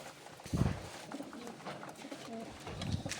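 Soft cooing of turtle doves, two low hooting calls spaced a couple of seconds apart, heard at a moderate distance over faint background noise.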